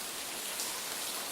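Steady rain falls with a dense, even hiss that stays loud and constant throughout, alone with no voices.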